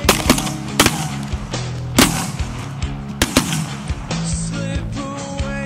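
Several loud, sharp shotgun blasts fire at irregular intervals during a Canada goose hunt, each one a sudden close crack followed by a brief decay, with a hunting dog present and no talk over the shots.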